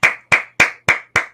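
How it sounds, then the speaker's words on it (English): Five sharp, evenly spaced hand claps ring out close and clear, each with a crisp attack and brief decay, like a single person clapping along. "I can hear your claps."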